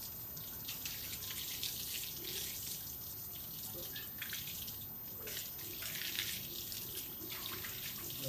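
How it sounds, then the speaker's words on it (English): A warm shower runs steadily over a dog at an animal care center in Luxor, Egypt, giving a continuous soft splashing hiss throughout. "Nice little cooling shower for you. Where this water's coming out pretty warm."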